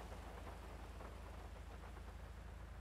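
Rain weather in a GTA roleplay server game, an even, unbroken hiss of rainfall with a soft low rumble, faint and steady throughout with no other sounds.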